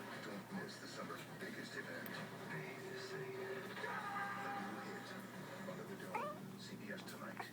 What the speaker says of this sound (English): It's a kitty right there.